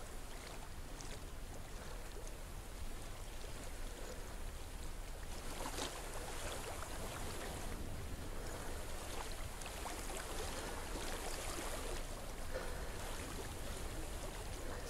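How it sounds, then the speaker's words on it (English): Water flows steadily in the video game Hellblade: Senua's Sacrifice, a faint, continuous rushing wash with gentle surges and no talk over it. "I hear water."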